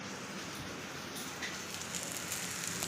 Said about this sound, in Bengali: দেখো বৃষ্টি পড়েই যাচ্ছে গাইস, পড়েই যাচ্ছে পুরো।